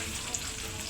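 Dried fish, tuyo, frying in a pan: a steady, dense sizzle of hot oil, close and continuous through the whole brief moment, with no voices.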